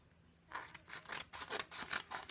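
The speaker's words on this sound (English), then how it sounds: "So what you could do while you're cutting up your transfers" Scissors cut through a Chalk Couture transfer sheet, a run of close, quiet rhythmic snips and rustling paper strokes, about eight in quick succession after a brief near-silent start.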